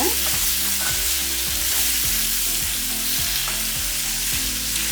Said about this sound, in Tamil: கொஞ்சம் எண்ணெயில் நல்லா வதக்கி விடுங்க